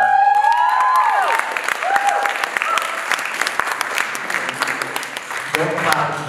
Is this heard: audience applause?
yes